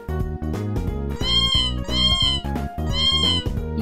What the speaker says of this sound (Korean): 근데 이 고양이 뭐야?